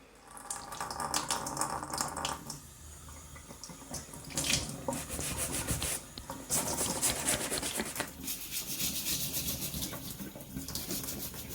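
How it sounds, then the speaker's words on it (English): Nail brush scrubbing embedded dirt off the uppers and soles of hiking boots at a sink, steady bristle rubbing over running tap water, close and continuous with brief pauses. "I'm going to use this nail brush here for this."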